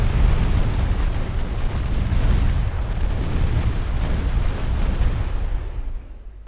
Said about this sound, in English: all of its 14-inch ammo blew up